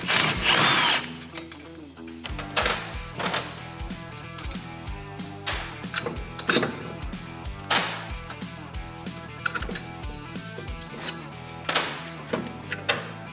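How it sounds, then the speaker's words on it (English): A power tool such as an impact gun removes the lower strut bolts during a coilover installation, giving several loud whirring bursts with short pauses and clanks of parts between them. "The final step here is to remove the 2 lower strut bolts from the assembly."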